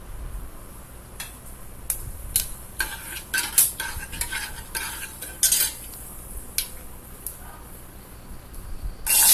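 Pepper and garlic sautéed in a pan for Tamil chicken kulambu, with a spoon scraping and clinking against the metal in irregular strokes over a soft background sizzle, ending in a louder scrape.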